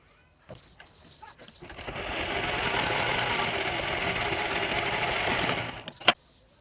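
Sewing machine running steadily for several seconds as it stitches a pressing seam along the folded edge of a hook-and-eye placket, with a few soft handling clicks before and a sharp knock at the end.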